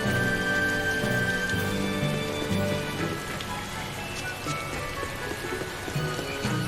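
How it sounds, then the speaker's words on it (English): Steady rain patters on surfaces alongside a sustained musical drone in the video game Tales of Berseria, a constant wash of droplets with no voices. "it's still raining the day afterwards"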